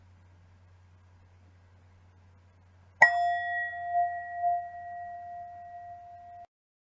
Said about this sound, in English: when you hear the bell, you can bring the practice to a close and open your eyes